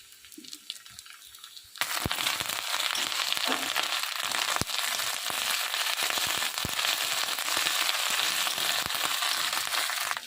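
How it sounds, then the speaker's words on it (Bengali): Onion and ginger-garlic paste fry in hot oil, quiet at first, then a sudden loud burst of sizzling crackle that holds steady with scattered sharp pops and stirring clicks. "পেঁয়াজ আর আদা রসুন একসাথে ভালো করে তেলের উপর ভেজে নিয়েছি"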